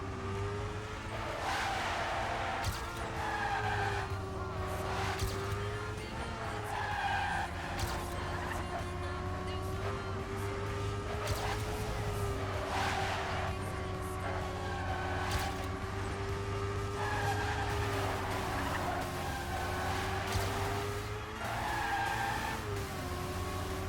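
Car tires skidding and squealing while drifting around corners in a racing video game, with a steady engine drone beneath repeated screeching bursts throughout.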